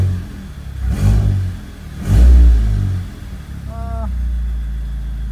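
Audi S3 8P engine fitted with Revo Autotech high-pressure fuel pump internals, revved twice in close succession with deep swelling roars, then settling to a steady idle hum.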